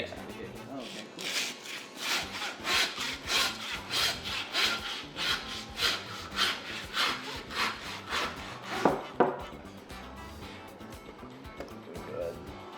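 Sawing through pig shoulder bone during butchering, a steady series of close rasping back-and-forth strokes, about two per second, with a few heavier knocks near the end and a voice talking faintly.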